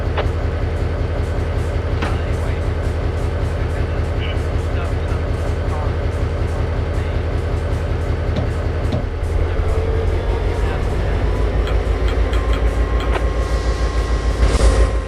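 A train in a train simulator game rumbles past steadily with rhythmic clacking over the tracks, a loud continuous mechanical drone that builds slightly toward the end.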